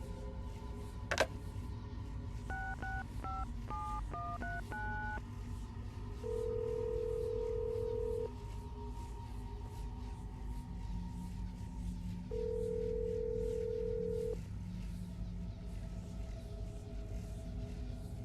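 Telephone dialing in the Assassin's Creed game, a quick run of dial key tones followed by two long ringback tones separated by a pause, faint over a low background hum, no talk.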